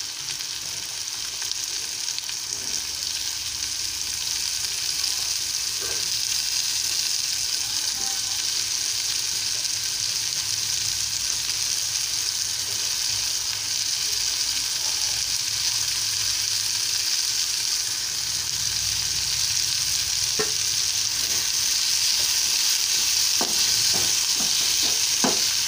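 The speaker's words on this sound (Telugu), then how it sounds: "చిట్టి కాకరకాయ ముక్కలు వేస్తున్నానండి." Small bitter gourd pieces frying in a pan for a curry, a steady close sizzle throughout with faint scattered stirring clicks.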